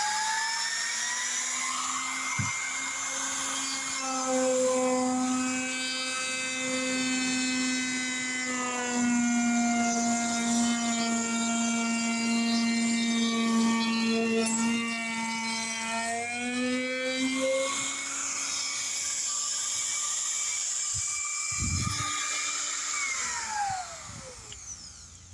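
A VEVOR trim router spins at high speed with a steady whining drone, its pitch sagging and rising as the bit bites into wood cutting a large chamfer, with a brief knock near the end; no voices.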